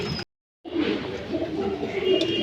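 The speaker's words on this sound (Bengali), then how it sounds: "এটা একটি মাদি কবুতর।" A female racing pigeon of a Janssen line coos in a loft, a soft, low, close murmuring call that runs continuously after a short silent gap.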